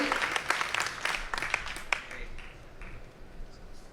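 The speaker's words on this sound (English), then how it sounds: "Big round of applause." An audience at a startup technology keynote claps, with sharp individual claps standing out early, then the clapping thins and fades within a few seconds, leaving quiet room tone and faint voices.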